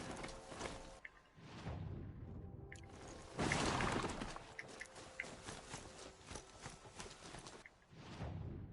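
A horse's hooves clip-clop in the video game Horizon Zero Dawn, steady walking steps in fairly quiet bursts with brief whooshes and outdoor game ambience between them.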